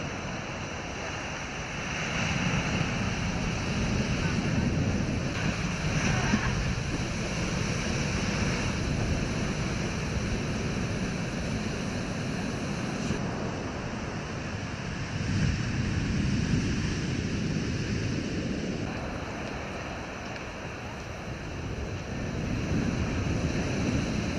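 Sea waves roll onto the shore after a storm, a loud continuous surf roar that swells and eases in long surges, with heavy wind buffeting the microphone throughout.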